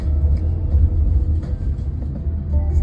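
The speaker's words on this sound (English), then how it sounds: "Overall, the car is driving pretty normal with no driver." Inside a Waymo driverless car riding through Miami, a low steady road rumble and engine hum fill the cabin with slight swells as it drives.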